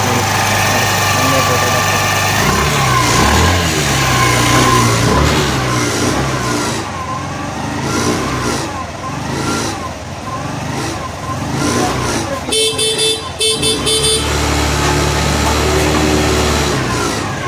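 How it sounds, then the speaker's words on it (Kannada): A Hero Xoom 125 BS6 scooter with a starting problem runs at a garage workshop, its engine droning and revving up and down close by, with someone talking over it throughout. "ಗಾಡಿ ಸ್ಟಾರ್ಟ್ ಮಾಡಿ ರನ್ನಿಂಗ್ ಮಾಡಿದ್ದೀನಿ"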